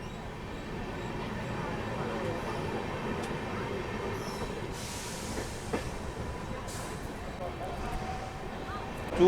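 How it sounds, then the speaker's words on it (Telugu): 12717 Ratnachal SF Express with upgraded LHB coaches departing Samalkot, a steady low rumble of the rolling train with occasional faint wheel squeals, heard from inside the coach with some background voices. "సో డిపార్ట్ అవ్వడానికి సిద్ధంగా ఉందండి మన ట్రైన్"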